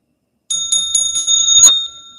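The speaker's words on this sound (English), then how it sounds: "so little chime bell for you guys" Small chime bell rung several times in quick succession, bright ringing strikes close and clear, fading out after the last hit, with no talk over it.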